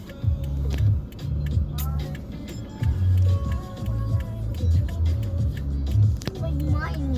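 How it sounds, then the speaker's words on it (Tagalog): A motorized tricycle passes close by, its engine putting out a low, rhythmic chugging that pulses steadily for several seconds while people talk over it. "Hindi naman kaya yan. Tricycle yan."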